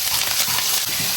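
Scallion, ginger and garlic sizzling in hot oil in a wok, a steady close bright hiss with soft stirring scrapes.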